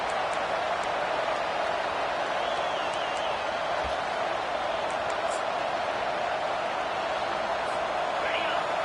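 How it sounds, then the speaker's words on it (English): A football stadium crowd gives a sustained, dense roar that stays even and continuous, heard from a broadcast position with commentary talk over it. "The roar of the crowd trying to fuel this defense to keep them pinned in their own end."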